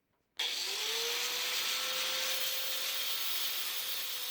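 A power tool starts abruptly and whines steadily as it cuts a rod into pieces for a DIY fuel level float in a race car fuel cell, its tone rising then holding as a continuous close grind.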